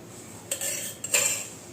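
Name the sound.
spoon mixing oil into flour in a bowl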